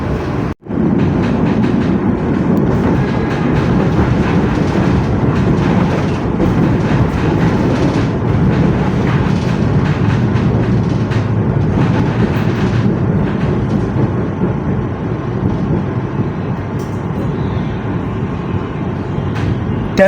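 Wijaya Kusuma passenger train running on rails, a steady loud low rumble with faint wheel clatter heard from on board, continuous throughout with no talking.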